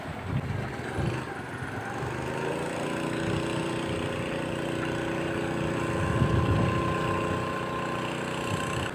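A boat engine on a river ghe loaded with sacks of harvested freshwater mussels runs steadily and close by, a continuous mid-pitched drone with a slight swell in loudness near the end.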